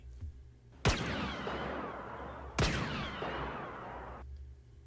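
Two sharp blaster shots ring out a couple of seconds apart in a Jedi training audio drama, each a sudden loud crack that trails into a long shimmering, descending decay.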